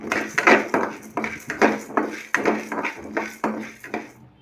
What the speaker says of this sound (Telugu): ఇప్పుడు ఈ పప్పుల్ని దోరగా వేగనివ్వాలి.